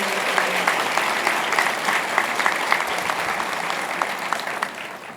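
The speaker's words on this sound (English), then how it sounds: "So we will cheer, kind of boo a little bit, but mostly cheer for Dr." At a medical school white coat ceremony for the Class of 2026, the audience gives steady applause for a faculty member, a continuous wash of clapping with a few louder individual claps and no clear shouting.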